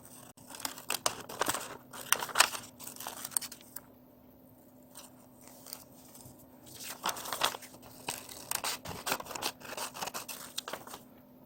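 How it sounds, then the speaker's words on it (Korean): Scissors cut through paper along a drawn line for a paper-folding craft: close, crisp snipping in irregular bursts with short pauses and the rustle of the sheet being handled. "요 선을 따라 가위로 자르겠습니다"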